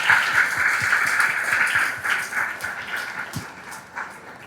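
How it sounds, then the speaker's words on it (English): An audience at a forum on how the Global South handles economic shocks applauds its panelists, with sustained crowded clapping that is strongest at first and then gradually thins and fades. "I'd like to invite you to give a big applause to our panelists"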